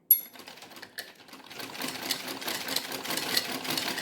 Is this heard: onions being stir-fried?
no